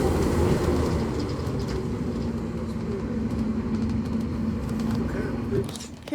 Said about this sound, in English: N230UD Omnicity departing Corfe Castle Village Centre